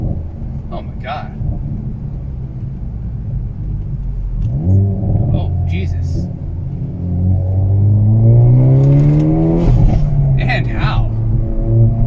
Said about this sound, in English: Very instant throttle response.